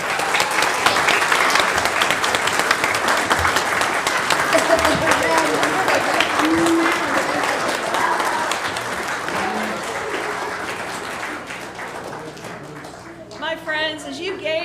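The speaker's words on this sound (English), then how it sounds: "a round of applause while our cast of winter animals return to their seats" Audience applause at a winter-themed snow tree pageant as the cast of winter animals returns to their seats, a dense steady clapping that carries through the whole stretch and thins toward the end.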